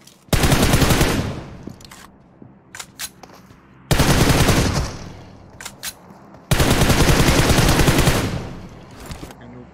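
Three long, loud bursts of automatic gunfire rip through a PUBG Mobile match, with short scattered shots and quieter gaps between them and no voices.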